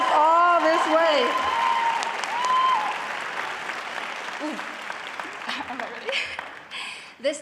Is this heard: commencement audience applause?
yes